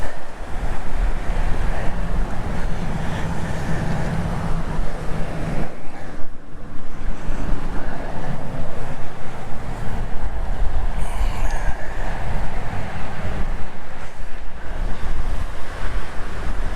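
Strong wind gusts buffet the microphone beside a spillway during late-December yellow perch fishing, a constant loud roar of rushing air and water that swells and dips.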